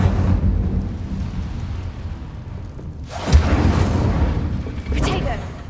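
An Incendio fire spell erupts in Hogwarts Legacy with deep rumbling whooshes: a rolling roar, then two sharp fiery bursts that flare up and fade. A voice is also heard.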